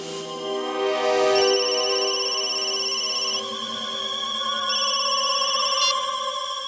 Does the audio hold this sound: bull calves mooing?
no